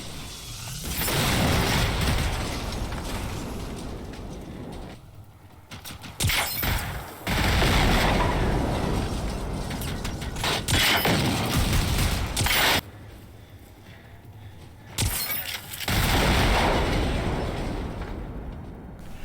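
Loud bursts of 12-gauge shotgun fire and booming explosions in Generation Zero come in long, dense stretches separated by brief quieter gaps, with crackling debris between.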